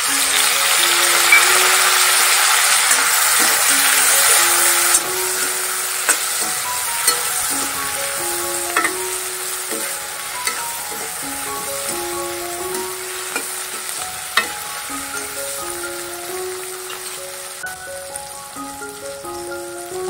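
Chopped tomatoes going into a hot oiled pan for mushroom masala, a steady loud sizzle that drops slightly after the first few seconds, with scattered spatula scrapes and light clinks over the continuous frying hiss.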